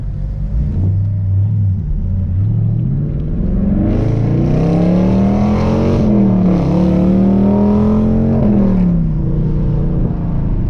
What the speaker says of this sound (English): God, this car sounds so good.